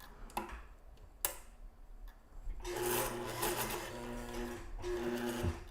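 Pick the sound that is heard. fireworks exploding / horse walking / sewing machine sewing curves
sewing machine sewing curves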